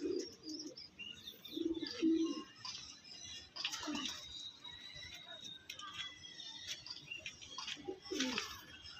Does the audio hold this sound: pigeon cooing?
yes